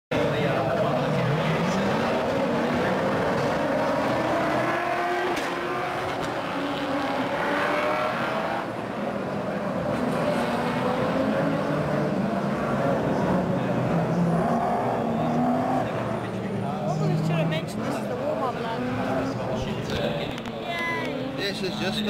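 Ute race cars on a warm-up lap at the Clipsal race make a continuous loud engine roar, with pitch sweeping up and down as they pass. People talk over the noise throughout.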